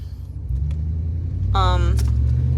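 A car rolls along with a steady low engine rumble that swells a little partway through, heard from inside the cabin while a person talks over it.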